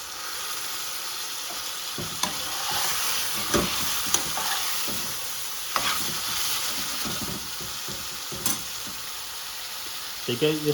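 Spices for a chicken tadka curry fry in a pan with a continuous sizzle, while a utensil scrapes and knocks against the pan in irregular stirring strokes close by.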